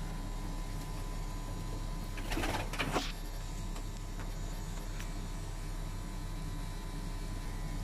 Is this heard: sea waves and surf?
no